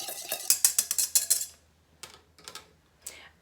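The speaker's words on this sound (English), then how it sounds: "now I'm going to use my whisk, and I'm going to whisk these ingredients" A whisk scraping and tapping through dry ingredients in a bowl, a quick run of rhythmic clinking strokes followed by a pause and a few scattered taps, close and clear with no talking.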